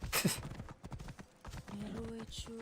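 Horse hooves clop in a video game horse race, a quick galloping rhythm heard faintly under spoken voices and other game sounds.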